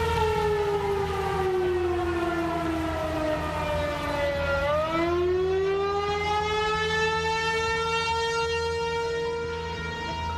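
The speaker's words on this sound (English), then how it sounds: "Tornado sirens sounding off across parts of the Midwest." Tornado siren wailing across the Midwest during a severe storm system, one long, steady, loud tone that dips in pitch, then climbs and holds for about ten seconds with no voices.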